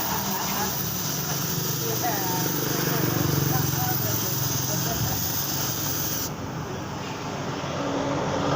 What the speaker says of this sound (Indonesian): Ini bagian sliver depan ini tadi juga gores sedikit, ini kita semprot terlebih dahulu.